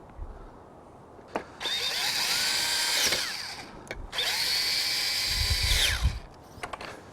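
A cordless power drill drives screws while installing a Bestop Trektop NX soft top on a four-door Jeep Wrangler JK Unlimited, with two loud close whirring bursts of a few seconds each, separated by clicks and handling noise.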